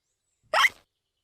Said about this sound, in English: Peppa's cure for hiccups doesn't seem to have worked.